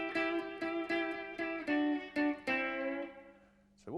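A full electric guitar lick played on its own: a quick run of sharply picked, distorted notes in a steady chopping rhythm, ending on a sustained ringing note before a final short slide.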